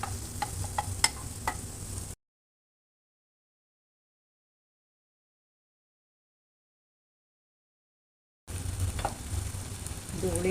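Tomato puree and leftover gram flour sizzle in a hot pan, heard in two short bursts of steady frying hiss at the start and end, separated by a long stretch of total silence.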